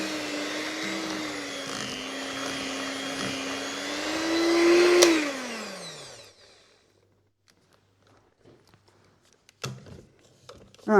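An electric hand whisk beats fudge mixture with a loud, steady whine that swells slightly before winding down and cutting off, followed by quiet handling noises and a few clatters of the beaters.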